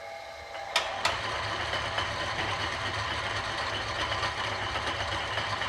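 A lathe motor starts up with a couple of sharp clicks, then settles into a steady whirring hum that holds at an even level, with no voices.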